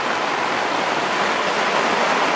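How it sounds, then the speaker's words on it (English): Rain pouring steadily outdoors, a dense, even hiss of heavy rainfall with no breaks, loud and close throughout the short stretch, with no voices. "And it's raining again."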